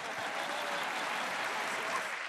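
Audience applause in a church or sermon hall, a steady wash of clapping from a crowd that continues evenly without a break.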